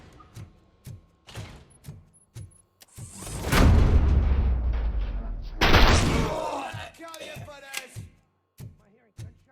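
Gunfire in the video game Robocop: Rogue City, a loud burst of rapid booming shots lasting a few seconds amid game ambience and scattered thumps.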